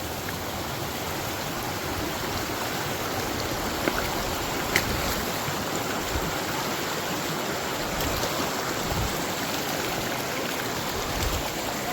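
Steady rushing water of a flowing forest river being waded across on a jungle trek, a dense continuous wash with occasional faint splashes, even in loudness throughout and no speech.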